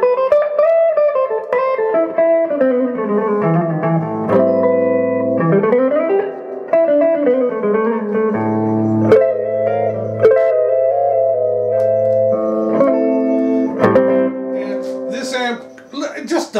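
Electric guitar played through a Quilter ToneBlock 200 amp with a splash of reverb: sustained chords and melodic lines with a lush reverb tail, loud and clean, no talking over it.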